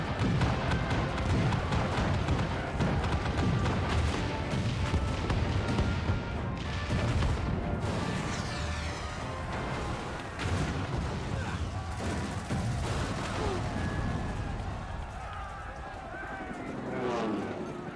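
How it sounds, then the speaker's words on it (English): Ship cannons firing during a naval battle in Final Fantasy XIV, heard as a dense, continuous barrage of booming blasts amid battle noise, with voices talking over it. "All cannons! Fire at will!"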